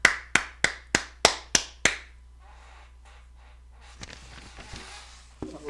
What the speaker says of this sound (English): Gotta get that man to clap.